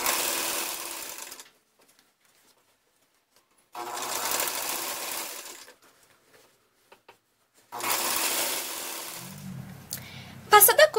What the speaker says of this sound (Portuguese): vai passar uma costura totalmente na parte de cima, tudo, tudo